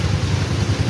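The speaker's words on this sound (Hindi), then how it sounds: "बहुत तेज़ बारिश हो रही है।" Heavy rain pours down during a windy storm on a trip to Faisalabad, a loud, steady, dense roar with no pauses and no voices over it.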